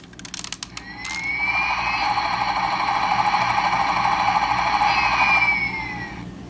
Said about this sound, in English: gives us some very cool engine sound effects and rotor sound effects